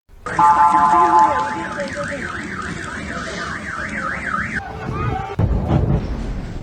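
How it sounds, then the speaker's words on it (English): Several air raid sirens wail together across Israeli cities, a loud rising-and-falling tone warbling over a steady drone, then cutting off as a heavy thud and rumble take over; no talking. "Sirens sounded across Tel Aviv, Beersheba, Haifa, and large stretches of northern and southern Israel simultaneously"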